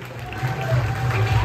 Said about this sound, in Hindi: देखो तालियां कम से कम के हिसाब से मारो